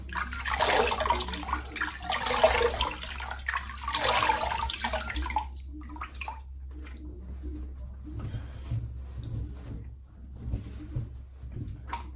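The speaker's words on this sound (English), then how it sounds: "Right, let's get that soap off." Running water rinses soap off a face and beard, a loud, steady broadband rush for about six seconds that then drops to quieter trickling and splashes, with faint drips and movement through the remaining time.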